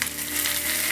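Spices crackle and sizzle steadily in hot oil while tempering for a turkey berry kara kuzhambu, a bright, close frying hiss.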